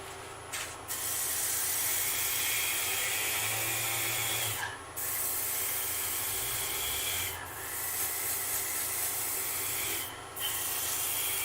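Power sander with 180-grit paper working a surface without dust extraction, a continuous loud rasping hiss that breaks off briefly several times and then resumes.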